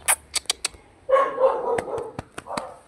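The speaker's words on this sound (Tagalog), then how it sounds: "paglaro lang ako sa mga tuta dito" Puppies bark and yip in short sharp bursts while being played with, close by and lively, with a longer whiny vocal stretch in the middle and no talking.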